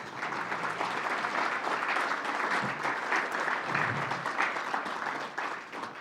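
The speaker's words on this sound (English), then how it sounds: "Let's have a round of applause" An audience at the RSNA 2022 awards ceremony applauds, a broad, continuous roar of many people clapping in a large hall, holding steady for several seconds before easing slightly at the end.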